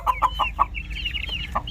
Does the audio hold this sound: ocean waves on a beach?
no